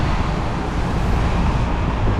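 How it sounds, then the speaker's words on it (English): Strong gusty wind from the tail end of a typhoon buffets the microphone on a Tokyo city street in Roppongi, a constant loud roar with low traffic rumble mixed in and no voices. "it's super windy right now"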